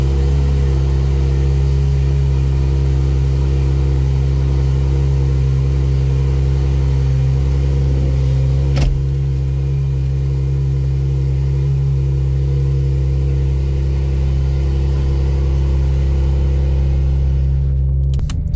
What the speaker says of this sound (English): Okay, we're going for a quick drive.